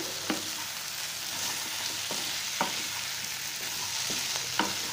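Potatoes and shallots with coriander and lemon juice being stirred in a frying pan, a steady soft sizzle broken by four or five faint scraping knocks at uneven intervals, with no talking.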